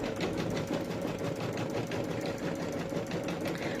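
An embroidery sewing machine runs a placement stitch, a steady fast mechanical whirring and clatter, close and continuous with no talk.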